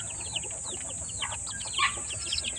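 Chickens in a breeding pen, Boston and Hatch Gray fowl with blue legs, give soft scattered clucks and chirps over a constant high hiss, fairly close and moderately quiet.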